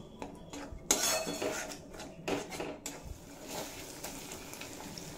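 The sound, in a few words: stirring and frying spice paste in a pan for mutton curry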